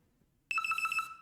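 One burst of an electronic phone ring in the video game The Midnight Food Run starts suddenly after a moment of near silence: a quick warbling trill, clear and alone.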